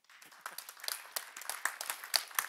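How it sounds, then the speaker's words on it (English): A small audience at a nonprofit persuasion seminar claps for itself. The clapping is sparse and quiet at first, then builds into a steadier, moderate patter of individual claps. "please give yourselves a round of applause for being here"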